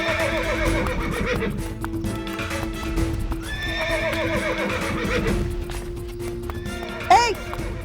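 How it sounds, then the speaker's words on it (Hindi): A horse whinnies and its hooves clip-clop in a palace courtyard scene of a historical drama about Rani Lakshmibai, the steady hoofbeats running throughout beneath background music, with a louder neigh rising near the end. "ये घोड़ा यहाँ क्या कर रहा है?"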